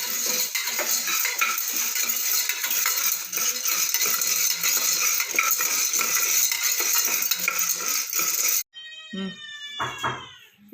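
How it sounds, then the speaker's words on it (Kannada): Field bean seeds dry-fry without oil in a pressure cooker, making a busy, close rattle and scraping of seeds being stirred for most of the time, then a cat meows clearly near the end. "ಇದರಲ್ಲೇ ಡ್ರೈ ಫ್ರೈ ಮಾಡ್ಕೋಬೇಕಿದು. ಇದಕ್ಕೆ ಎಣ್ಣೆ ಗಿಣ್ಣೆ ಏನು ಹಾಕಂಗಿಲ್ಲ"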